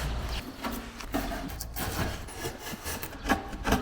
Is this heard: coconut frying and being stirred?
no